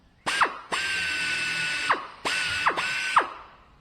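A power drill with a blunt bit whirs in several bursts, revving up, running steadily, then winding down with a falling pitch; close and loud, no talking.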